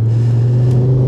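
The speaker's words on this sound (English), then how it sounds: "You just want to give it some in third gear." A Mountune MR375 Mk2 Ford Focus RS pulls hard in third gear, its engine a loud, steady low drone with strong harmonics, heard close from inside the cabin with no talking.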